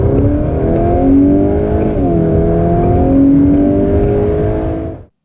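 A VW Golf R Mk 8.5 surges from 30 to 70, its engine a loud, close, rising drone that dips briefly at a gear change and climbs again before cutting off abruptly.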